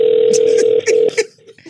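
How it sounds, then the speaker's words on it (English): A telephone rings with a steady electronic tone that breaks off into short bursts, as people talk briefly over it. "No, it's ringing, son."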